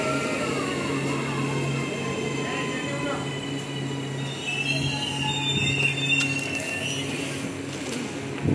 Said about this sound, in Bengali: আর দেখতে দেখতে চলে এলো ট্রেন।